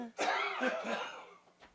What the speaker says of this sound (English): Coughing it up.